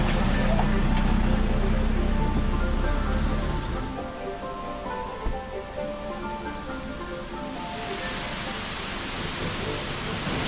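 La Escalera waterfall in Colombia, a loud continuous roar of cascading water that lightens slightly partway through, steady and close.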